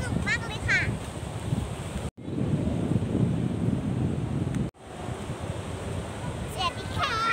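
Sea waves wash onto a Thai beach with steady broadband surf and wind buffeting the microphone, broken by two abrupt cuts, while faint distant voices come through at the start and end.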